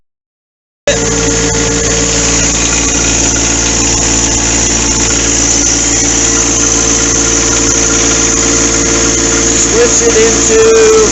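A new John Deere 4x4 tractor engine runs steadily at around 2,400 RPM while the bucket lifts, a loud continuous idle-like drone with a faint hydraulic whine rising near the end.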